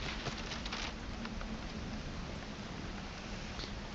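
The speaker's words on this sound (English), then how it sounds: "In fact, in the distance, you can see and hear some lightning and thunder." Steady rainfall with a storm rolling in, used as ambience for a tabletop role-playing game session, a constant dense hiss with faint scattered drops and no talking.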